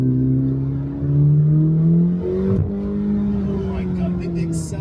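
A 2026 Chevrolet Corvette C8 ZR1 accelerates hard from inside the cabin, its engine pitch climbing steadily through a gear change with a brief dip, loud and continuous with no talk.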